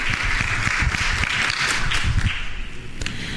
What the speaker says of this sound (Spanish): Fuertes palmas para el ingeniero.